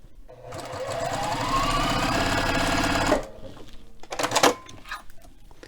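A sewing machine stitches quilt pieces for a confetti star quilt in a steady, loud whirring run of about three seconds, then stops. Short clicks and handling sounds follow.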